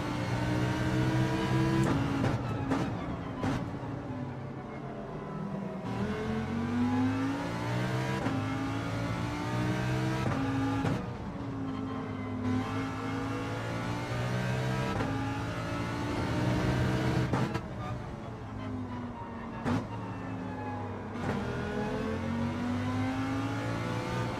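A Lamborghini in Gran Turismo 7 races on track, its engine a loud continuous roar that climbs and drops through repeated gear shifts and revs across the whole stretch, with no voices.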